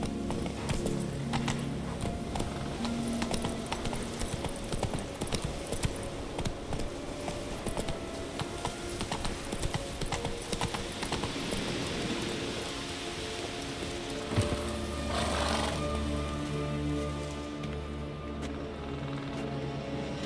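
The horse Roach trots in The Witcher 3, hooves clip-clopping in a steady, busy rhythm over the constant patter of rain.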